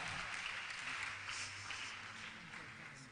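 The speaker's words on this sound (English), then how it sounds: "Clap your hands for Jesus." A church congregation claps hands in a steady, dense wash of applause that holds evenly throughout, with faint voices mixed underneath.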